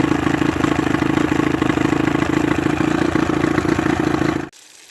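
A 1984 Johnson 9.9 two-stroke outboard motor runs at a steady idle, a loud, even buzzing putter that carries on unbroken before cutting off abruptly just before the end.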